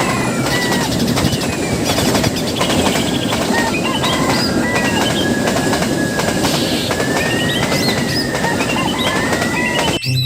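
A toy train runs with a steady rattling, whirring drone and repeated high squeaky chirps over it, close and continuous, ending abruptly.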